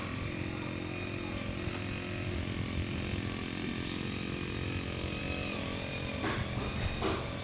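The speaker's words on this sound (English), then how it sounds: "now my other neighbor is weed whacking" A neighbor's string trimmer runs steadily in the background, a continuous buzzing engine drone with no pauses, moderately loud, out in a yard where a snowblower axle is being worked on.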